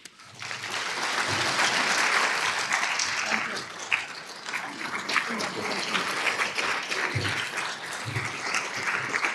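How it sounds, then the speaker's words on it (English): An audience at a seniors' celebration event breaks into sustained applause, with dense clapping swelling and then tapering slightly, and a few voices faintly mixed in. "That's applause."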